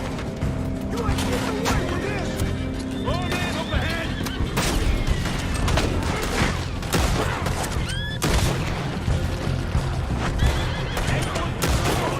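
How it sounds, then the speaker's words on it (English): Horses neigh and whinny repeatedly amid clattering hooves in the open-world western game Red Dead Redemption 2, loud and close, mixed with bursts of gunfire and booms in a chaotic chase, with voices shouting over it. "I got some horses from the stables."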